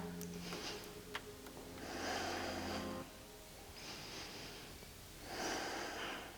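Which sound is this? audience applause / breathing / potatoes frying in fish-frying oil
breathing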